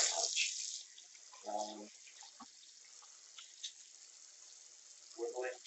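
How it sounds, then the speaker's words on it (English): Warm water running from a bathroom tap, a soft steady hiss close by, with brief splashes and drips breaking through near the start and end, and a speaker murmuring once. "Get some warm water going."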